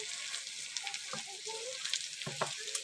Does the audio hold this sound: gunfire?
no